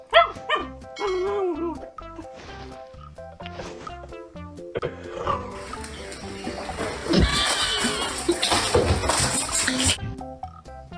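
A dog barks and yips repeatedly, mixed with squeals and scuffling noise, growing busier and louder toward the end.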